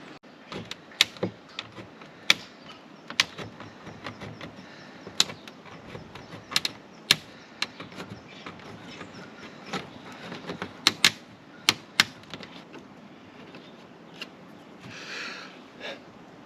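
A hole being cut through a polystyrene-insulated caravan roof panel, with sharp irregular clicks and snaps of cutting and a soft rasping texture over about sixteen seconds.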